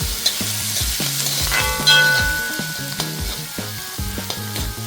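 Onions sauté in a pan for gobi manchurian, a close, continuous sizzle and frying hiss with repeated stirring scrapes and clinks from a utensil, with no voices.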